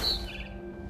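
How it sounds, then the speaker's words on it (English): A barn swallow chirps in the video game What Remains of Edith Finch, with a single short, bright, high call at the start followed by quieter fading twitters over a low ambient hum. "Then I heard chirping outside my window. It was a barn swallow going back to her nest."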